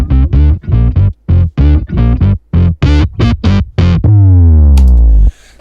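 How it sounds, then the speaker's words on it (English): Main synth bass from an electronic track, loud and distorted, playing a choppy rhythmic sequence of short punchy notes before ending on one long, sustained sliding note, with no voices. "And with the main bass, it sounds like this."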